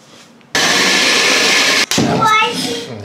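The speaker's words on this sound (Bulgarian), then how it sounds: "В блендера слагаме малините." A kitchen blender blending raspberries kicks on abruptly with a loud steady whir, briefly cuts out, then resumes and settles as the fruit churns.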